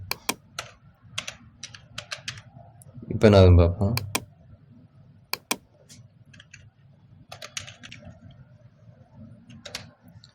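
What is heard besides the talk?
typing on a computer keyboard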